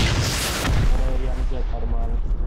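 A rocket explosion during a raid in the video game Rust, heard as a heavy, rumbling boom that rolls off into a low roar while a person talks over it.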